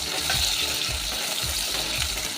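Mango pieces fry in a pan for a pabda fish curry with mustard kasundi, a steady close oily sizzle broken by rhythmic stirring scrapes roughly every half second.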